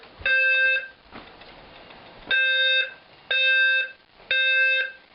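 Fire alarm voice evacuation system under test, sounding a shrill harmonic electronic tone in four repeated bursts of about half a second each, separated by short quiet gaps, loud and close.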